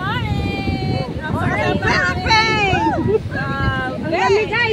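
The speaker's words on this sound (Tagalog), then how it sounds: "Oh, ang lakas ng hangin oh." Strong wind buffets the microphone in a steady rumble while someone talks excitedly over it in Filipino, outdoors and close, at the seaside.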